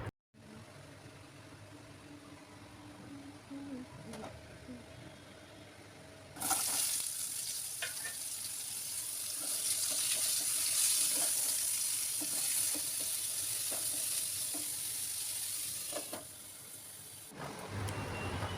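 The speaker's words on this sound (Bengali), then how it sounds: "আমি এবার পটল ভাজাটা বসিয়ে দিই" Slices of pointed gourd (potol), rubbed with salt and turmeric, frying in a pan in a home kitchen. The pan is quiet at first, then a loud, steady sizzle starts about a third of the way in and continues close by with no talk.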